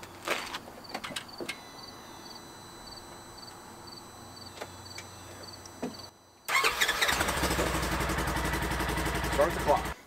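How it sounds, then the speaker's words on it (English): A 2020 Polaris Ranger Premium Crew 1000 utility vehicle's engine cranks, catches and settles into a loud, steady run close by, following a quieter stretch of faint clicks and background noise. "we do need to turn the engine on for 3 to 4 minutes"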